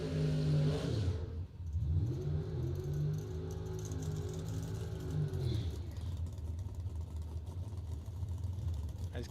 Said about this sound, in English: As Kaylee Richards and Chris Galletti complete the burnouts